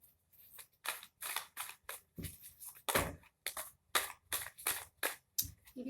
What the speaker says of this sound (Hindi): चलिए हम दोबारा शफल करते हैं